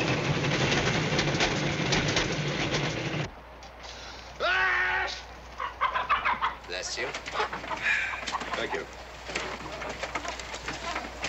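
Chickens cluck and squawk close by in a 1960s horror film scene, following a burst of loud rumbling noise that cuts off abruptly; a voice speaks briefly between the irregular bird calls.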